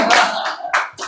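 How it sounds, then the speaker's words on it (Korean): A small church group gives brief welcoming applause for a first-time visitor, a few short bursts of clapping close by with gaps between them. "한번 환영의 박수로 우리 오내경 자매님"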